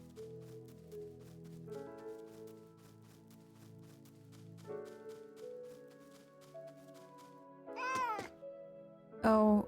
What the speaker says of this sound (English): this is a new cat